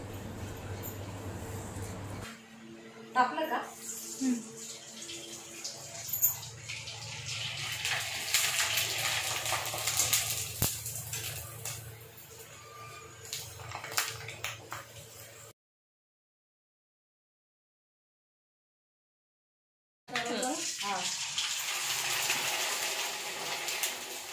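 Water runs steadily into a cooking pot for jaggery syrup in a home kitchen, a continuous splashing hiss that breaks off into silence and then resumes.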